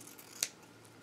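Scissors give a single sharp snip through satin ribbon, close and quiet against a hushed room with no voices.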